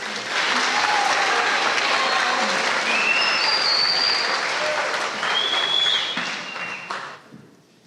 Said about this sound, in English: Let's give our candidates a round of applause before we get started.